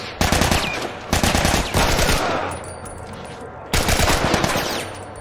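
Gunfire in The Last of Us video game: rapid bursts of automatic fire crackle loudly in three long strings separated by short pauses, with echoing tails between volleys.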